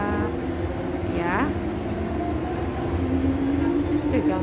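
Rumbling train interior at Hong Kong Disneyland with a steady low roar and occasional squeals, while people talk nearby.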